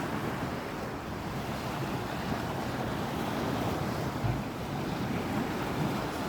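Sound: sea waves breaking on a beach, wind

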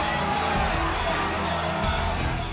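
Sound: Fijian people cheering for their rugby sevens team

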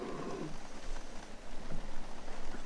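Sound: heavy rain falling at a caravan campsite

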